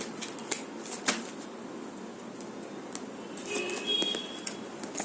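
Tarot-style cards are shuffled nearby with quick, light riffles and soft slaps in scattered bursts, fairly quiet and close, with a brief tonal beep near the end.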